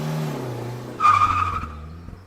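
A Citroen SM 2.7 litre car speeds off on a Loire Valley horizon: a low engine rumble, then a sudden loud, tonal squealing roar that swells and fades over about a second.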